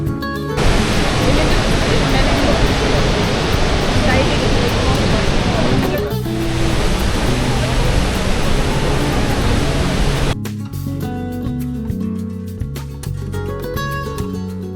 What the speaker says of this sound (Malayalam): എന്നാൽ നമുക്ക് ഈ വെള്ളച്ചാട്ടത്തിൻ്റെ ആ ഒറിജിനൽ സൗണ്ട് ഒന്ന് കേട്ടാലോ